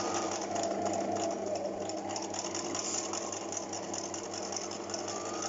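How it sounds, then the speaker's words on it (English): Sewing machine stitching around a pocket bag on a tailored flap pocket, a continuous fast mechanical whirr with rapid needle rhythm, close and steady for the whole stretch. "you need to sew around your pocket bag"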